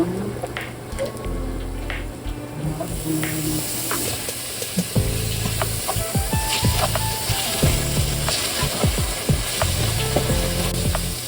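Igado pork mixture with pepper and pork cube sizzles loudly in a pan, a continuous frying crackle with scattered clinks and scrapes of stirring throughout, no one speaking.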